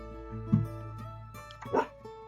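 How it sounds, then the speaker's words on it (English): Starbuck the dog gives two short barks a little over a second apart, faint and in the background beneath a steady low hum. "is my dog Starbuck in the background? He is my animal companion, if you can hear him."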